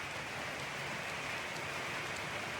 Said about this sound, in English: As you can hear, it's raining quite heavily here today.